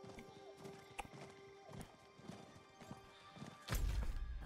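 Hooves clip-clop at a brisk, uneven pace with a horse whinnying in Diablo IV, ending in a louder rumbling thud.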